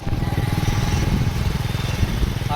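A Bajaj motorcycle runs along the road with a steady, close engine putter and throbbing exhaust, holding a fairly even pace.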